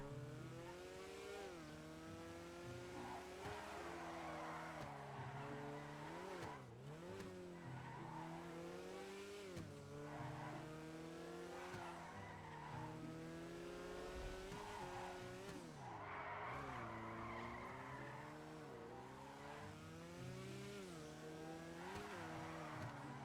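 A 1963 Volkswagen Beetle in GTA 5 drifts and slides, its engine note rising and falling steadily while tires squeal and skid throughout, loud and continuous with no talking.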